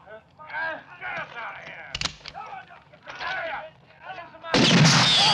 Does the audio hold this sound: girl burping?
no